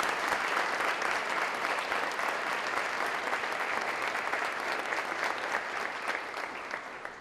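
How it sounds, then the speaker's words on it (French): Sustained applause from the audience at a national Ordre national du mérite agricole award ceremony, even, dense clapping that continues for several seconds before tapering slightly. "Je vous invite à les applaudir."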